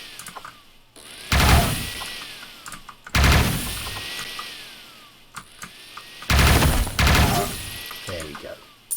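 Gunfire in the top-down shooter Neon Chrome comes in three loud, dense bursts of rapid shots, separated by quieter gaps of game ambience.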